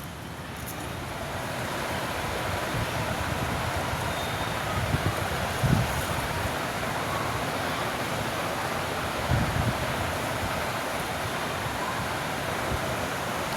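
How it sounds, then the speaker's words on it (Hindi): Steady broadband wind rushing outdoors, a constant roar with a few brief gusty bumps, no voices. "बारिश का मौसम है तो हवा भी चल रही है"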